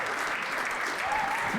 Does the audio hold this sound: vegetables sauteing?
no